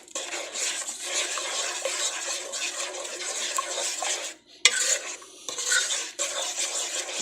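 A spoon stirs a butter mixture melting in a pot for no-bake cookies, giving uneven scraping and clinking against the metal, close up, with a short break and several louder knocks near the end.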